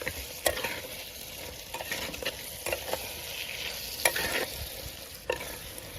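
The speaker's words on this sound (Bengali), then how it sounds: "তো বেশ ভালো মতো এটাকে নাড়িয়ে চাড়িয়ে কষে নেবো আমরা।" Chicken skin with garlic stirs and fries in its own rendered oil, village style, producing a steady soft sizzle broken by repeated spatula scrapes and clicks against the pan, fairly close and with no voices.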